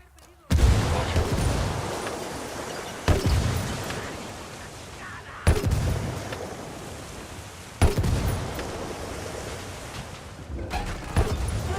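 Frag grenade blasts in the video game Ghost Recon Wildlands: five heavy booms arrive a few seconds apart, each a sudden loud hit followed by a long rumbling decay.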